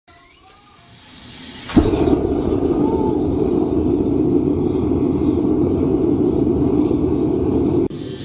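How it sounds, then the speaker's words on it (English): A forge lights with a sudden whoosh, then roars steadily as a loud, even burner rumble while heating sodium nitrate in a large crucible toward 700 degrees Fahrenheit. "then lit the forge to heat it around 700 degrees Fahrenheit"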